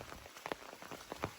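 Rain falls on the Appalachian Trail, scattered drops pattering irregularly on nearby surfaces, soft and close, with no voices.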